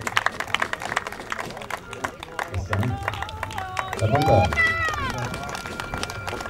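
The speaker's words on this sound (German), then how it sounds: "nochmal kräftigen Applaus für den Sieger des heutigen Wettbewerbs im Gespannflügen" Crowd applause for the winner of a horse logging competition at a Brandenburg championship, scattered clapping and murmuring from the audience beneath a loud announcer's voice speaking German.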